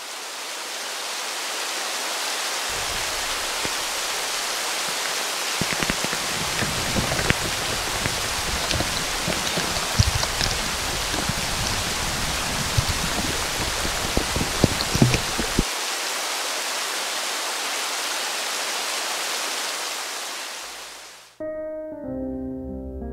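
Steady rain pours down in the Lake District, a dense, even hiss with heavier drops and patters in the middle stretch, continuing alone for about twenty seconds before cutting off.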